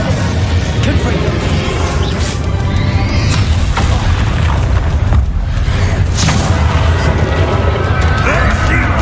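A Confringo spell explodes in Hogwarts Legacy amid dense, loud booms and crashes of combat, with voices talking over the continuous din.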